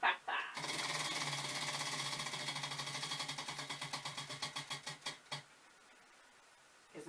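A spinning wheel clicks rapidly against its pointer, the ticks gradually slowing and spacing out until it stops; close and fairly loud, no talking.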